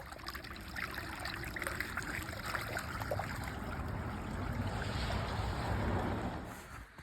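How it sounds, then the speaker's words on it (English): Floodwater running through a farm like a small river toward a barn, a continuous rushing and gurgling flow at close range that swells slightly before easing off, with no talk. "This is all water coming from the way back of the farm, all running through here, like a little river, straight to the barn."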